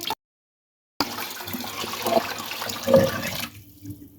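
Water pours steadily into a cooking pot with a rushing, splashing sound for a couple of seconds after a brief silence, then cuts off.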